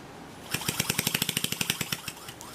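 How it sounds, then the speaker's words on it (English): A Scroll Technologies HVAC scroll compressor, running open and exposed, gives a fast, even series of sharp mechanical knocks that starts suddenly and slowly tapers off. "let's try the Scroll Technologies compressor."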